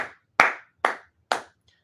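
Three sharp hand claps spaced about half a second apart, close and fairly loud, with no voices, as a room of men starts to clap.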